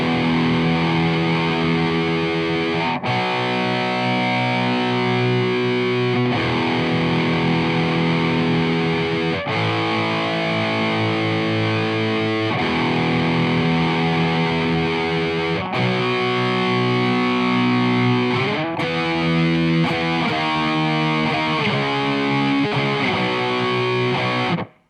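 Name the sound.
distorted electric guitar playing a song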